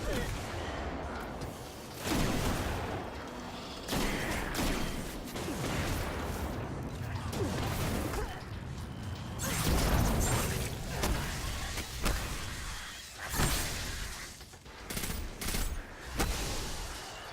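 Booming shotgun blasts in a video game, heavy repeated shots in uneven succession layered with dense in-game noise, loud and close throughout.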